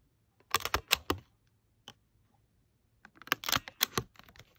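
A handheld hole punch clicks sharply through a notebook cover made from a mini disc, close and crisp: a quick cluster of snaps, a lone click, then another burst of several presses in a quiet room.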